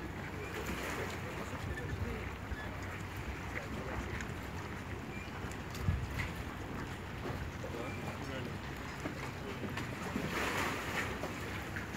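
Boat moving on open water near Stockholm, with continuous wind and water wash, low engine-like rumble under broadband noise and a few faint voices nearby.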